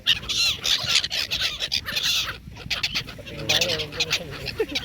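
A large flock of birds calls all at once in a dense, continuous outdoor chatter of honks and squawks, loud and close, with a brief lull midway.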